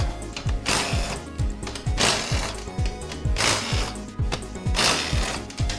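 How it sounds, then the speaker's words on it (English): A ratchet with a 10mm socket backs out bolts on a Ford 5R110W TorqShift transmission, giving repeated quick clicking pawl bursts in a steady rhythm, close and loud with no talking. "So we used a 10mm socket."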